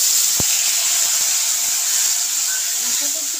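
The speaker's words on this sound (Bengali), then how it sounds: "মশলাটা একটু কষিয়ে নেব।" A paste of tomato, green chili and ginger hisses and sizzles steadily in a hot pan while cooking a hilsa fish curry with potato and eggplant, with faint spoon scrapes and clicks.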